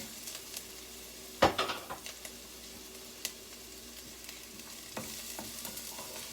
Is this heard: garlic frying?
yes